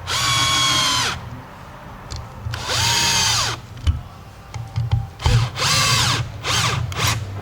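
A power drill drives screws into Audi A4 speakers, three long loud whirring runs with pitch slowing as each screw tightens, separated by short pauses and light clicks of handling.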